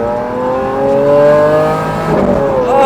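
Lamborghini Aventador with a single-clutch gearbox accelerating hard up an on-ramp: a loud, close engine note climbs steadily in pitch, then drops briefly at a gear shift near the end and starts rising again, with no talking.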